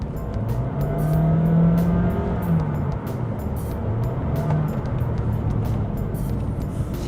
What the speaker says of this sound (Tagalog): So, naririnig nyo rin yung makina.